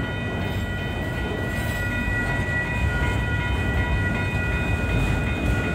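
Union Pacific 8133, an inbound manifest freight train, rolls slowly past Lindsay Road crossing in a steady, loud rumble of wheels and cars with faint high tones over it.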